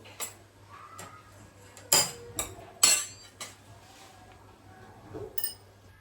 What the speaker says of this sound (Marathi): आता इकडे कढई ठेवली